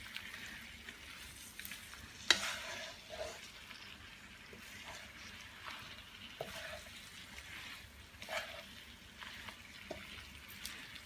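Spinach and salami pasta with tomatoes is tossed in a sizzling pan, giving a quiet, continuous frying hiss broken by soft clinks and scrapes of stirring.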